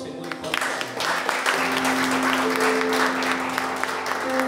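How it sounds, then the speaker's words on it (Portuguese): Church congregation applauding during a Tuesday worship service, a sustained wash of clapping with a held musical tone underneath and some faint voices mixed in. "Aplauda o Senhor"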